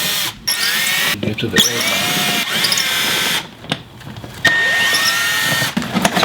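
Power tool, likely a drill, runs in bursts while removing screws from the air box of a Honda GL1500 motorcycle. The whirring stops and starts several times, close up, with brief talk over it.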